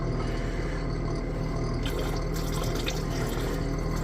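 Liquid poured into a container to top it up during gold recovery from RAM chips, a steady close splashing and trickling fill lasting several seconds with no voices.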